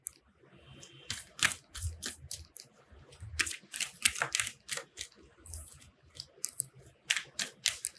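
Tarot cards are shuffled in quick, crisp riffling bursts and flicks, close and fairly quiet, coming in irregular clusters with short pauses between them.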